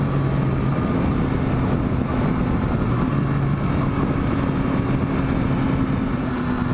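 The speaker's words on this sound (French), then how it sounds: "le plaisir de cravacher ce 3 cylindres extraordinaire et de pouvoir entendre le bruit de son échappement et de sa boîte à air" Yamaha Tracer 9 GT three-cylinder motorcycle engine and exhaust holding a steady, loud drone with some airbox intake noise, the tone shifting slightly in pitch but never breaking, with no voices.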